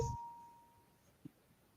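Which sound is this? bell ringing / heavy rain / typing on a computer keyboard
bell ringing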